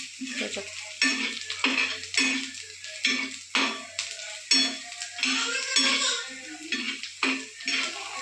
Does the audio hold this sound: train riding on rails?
no